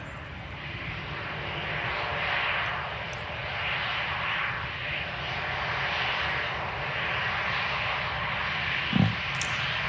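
An airliner at Manchester Airport gives a steady, broad engine roar that holds fairly even throughout, with no talk over it.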